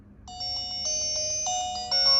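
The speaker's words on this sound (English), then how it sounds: "there's 3 different notification sounds that you can select" A Diliberto DT35 smart watch plays a melodic electronic notification jingle, a sequence of clear tonal chimes rising in a short tune, close and fairly loud with no talking.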